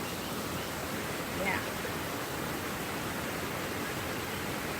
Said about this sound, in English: My drainage waterfall.